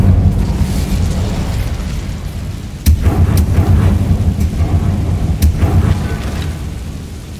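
An Incendio fire spell cast in the video game Hogwarts Legacy, heard as a loud, sustained roaring burst with sharp booming cracks near three and five and a half seconds, dense and rumbling throughout with no talk.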